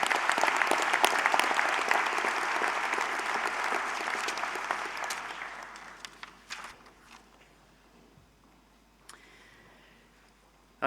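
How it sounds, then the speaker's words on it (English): Massey University graduation audience in Auckland gives a round of applause, loud dense clapping for about five seconds that tapers off into scattered claps, shuffling and a few footsteps in a large hall. "another round of applause for Greg"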